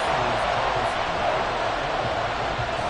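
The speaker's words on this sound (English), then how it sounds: "This crowd alive again." Football stadium crowd roars steadily after a fourth-quarter two-point conversion ties the game, a dense, sustained wash of distant cheering throughout.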